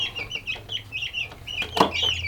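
Chickens cluck repeatedly close by in a farm coop, a busy overlapping chorus of short clucks with a brief knock partway through.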